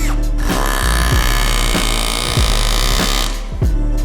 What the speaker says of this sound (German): ja, können wir damit schrauben.